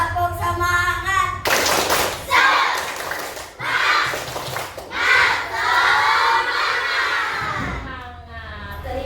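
Schoolchildren in an elementary classroom do a rhythmic clapping chant together, with bursts of group clapping and shouted voices alternating with a teacher's speech.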